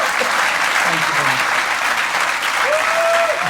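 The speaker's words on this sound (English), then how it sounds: "can you please give a massive round of applause to my fantastic guest, Nish Kumar." A theatre audience at a live podcast recording in Leicester Square claps loudly and continuously for a guest, dense close applause with a few scattered cheers.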